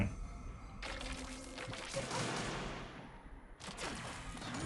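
Shooting in the mobile game Heroes War: Counter Attack comes in two loud bursts of impacts and shots, a longer volley first and then a second burst after a brief lull.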